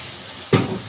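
Water pours into a pan of pasta with tomato sauce in a home kitchen, a sudden splashing hiss that starts halfway through and continues steadily after a brief quiet lead-in.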